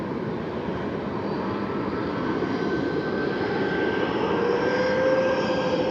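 A Ryanair airliner bound for Seville departing Manchester Airport, with a steady, broad jet engine roar holding constant and slowly building in intensity at moderate distance.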